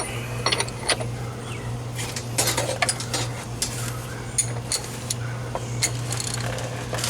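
Ratchet with a 29mm socket turning a yoke nut on a Jeep Wrangler YJ, a series of quick metallic clicks in irregular bursts over a constant low hum, close by.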